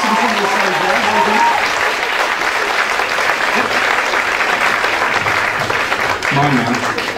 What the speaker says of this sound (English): I think we deserve one last round of applause